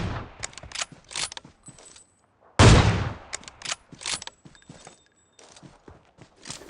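Gunfire in the game PUBG: a scatter of sharp, clicky shots and one loud, booming report in the middle, all close and unaccompanied by speech.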